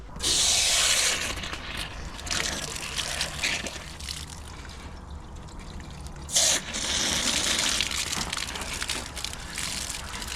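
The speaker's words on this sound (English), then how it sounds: "now we're gonna hose this one out" Water from a hose sprays into a clogged catalytic converter from a Honda CR-V, making hissing, splashing gushes that surge loudly at the start and again later, with trickling and gurgling in between.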